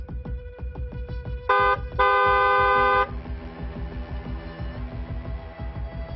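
A car horn honks twice, a short toot then a longer blast, over a rhythmic engine or road noise.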